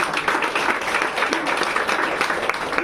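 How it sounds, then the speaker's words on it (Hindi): An audience at a business event gives loud, sustained applause, a dense patter of many hands clapping close by, steady throughout with slight swells and no speech over it. "एक बार जोरदार तालियां मोदी केयर"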